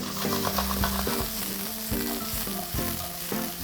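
Onion and chili fry in a preheated pan for chicken burritos, a close, steady sizzle with several spoon or spatula scrapes and taps at regular intervals, no voices.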